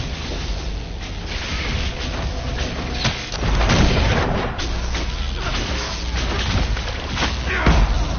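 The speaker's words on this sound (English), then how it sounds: "make everything go boom!" An explosion in the video game Dragon Age, with deep booms, the heaviest near the middle and another near the end, inside a loud, continuous wash of crashing game sound with voices mixed in.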